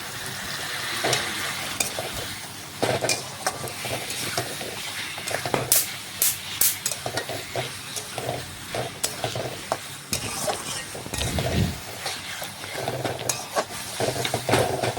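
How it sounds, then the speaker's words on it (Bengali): Chicken with red chilli powder stirred and sautéed in a pan for biryani, a steady loud sizzle and hiss with repeated scraping stirs throughout and no talking. "দেখুন এইভাবে নাড়াচাড়া করতে করতে চিকেনটা কষিয়ে নেব।"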